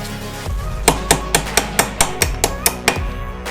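A pin is tapped into a motorcycle foot peg with about ten evenly spaced, sharp metallic hammer taps, close and clear over a low background hum.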